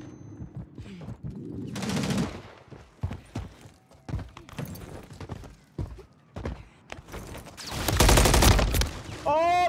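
Rapid gunfire bursts in the video game Modern Warfare 3, dense cracking shots in quick succession with a heavy sustained volley near the end, mixed with game noise and a player's voice.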